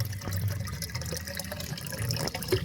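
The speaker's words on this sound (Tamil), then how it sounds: "பாருங்கள் ஆஃப் சன்லைட்லேயே எவ்வளோ சூப்பராக தண்ணி பாயுது அப்படின்னு உள்ள பாருங்கள்." Water pours steadily through a homemade top filter for plants, a continuous close gurgling and splashing flow with no pauses.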